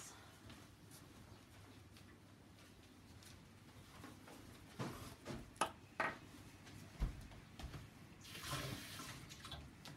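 After a few scattered clicks and knocks, a tap runs briefly near the end during acrylic pour painting, a short rush of water pouring close by.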